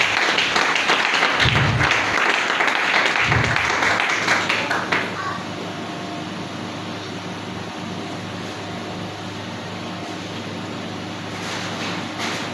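A church congregation applauds, with dense clapping for about five seconds and a couple of low thumps. The clapping then fades into a quiet room hum.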